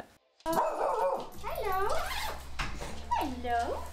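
A dog close by gives a series of excited, rising yips and whining barks, several sharp bursts with brief gaps between them, loud and near.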